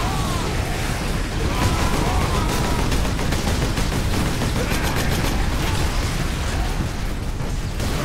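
Dense, continuous gunfire and blasts of battle in the Warhammer 40,000: Space Marine video game, a steady loud wash of shots and explosions throughout with no clear breaks.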